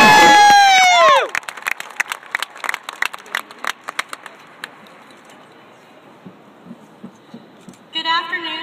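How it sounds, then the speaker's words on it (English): Applause and cheering from a graduation crowd for the senior class president, starting with loud shouts and whoops, then scattered clapping that fades gradually, before a voice begins speaking near the end. "Let's give her a nice round of applause."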